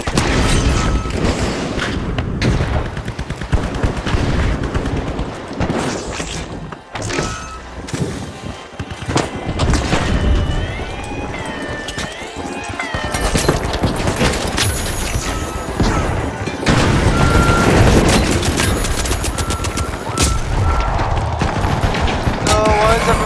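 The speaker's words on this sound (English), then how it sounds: "why is everyone shooting at me?" Constant gunfire in The Finals, a first-person shooter game, with dense fusillades, booms and crashing impacts layered over a busy game soundtrack, loud and continuous throughout with only brief lulls.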